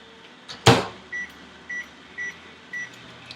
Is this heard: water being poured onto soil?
no